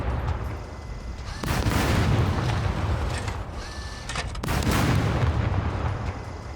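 Gunfire in the survival game SCUM rumbles from a distance in two long, dense bursts of rolling shots with a quieter stretch between them, and no talk.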